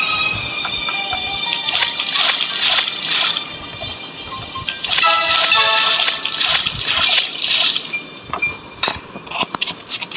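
Water splashing and sloshing in bursts in a Roblox game, fairly close, with bright splattery textures and short gaps between scoops; no one speaks.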